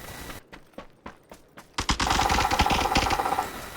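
Rapid submachine-gun fire from an MP9 or MP5K in a shooting video game: a few sharp separate shots, then a dense continuous burst that keeps going to the end, loud and close.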